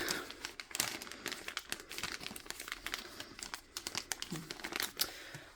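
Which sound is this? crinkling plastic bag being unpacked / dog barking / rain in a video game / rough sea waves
crinkling plastic bag being unpacked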